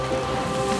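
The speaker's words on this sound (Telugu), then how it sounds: "చూడు, మేఘాలు ఈ రోజు ఎంత బాగా వర్షిస్తున్నాయో" Rain pours down in a cartoon scene, a brief, steady wash of falling water at even loudness with no voices.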